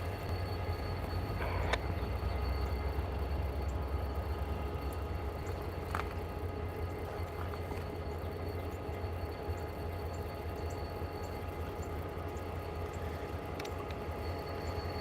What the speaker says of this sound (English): we've got 3 locomotives, all working down by the tower